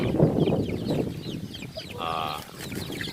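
Chickens crossbred from fighting-cock and backyard hens, kept in a coop for rearing chicks, give scattered soft clucks and chirps, then one longer, steadier call near the end over a constant murmur.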